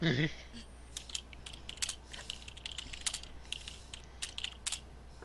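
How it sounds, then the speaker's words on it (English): Fingers type on a computer keyboard in quick, irregular bursts of crisp clicks, fairly close but quiet, after a brief voice at the start. "While you're typing that, I'm just going to mention."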